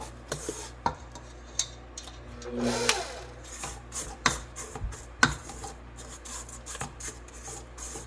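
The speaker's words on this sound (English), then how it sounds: "We're going to scrape down another time." Cake batter for a bourbon pecan pound cake is scraped down around a mixing bowl, with rasping strokes and occasional sharp clinks of the utensil against the bowl, close and fairly quiet.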